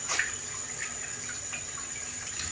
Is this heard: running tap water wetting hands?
yes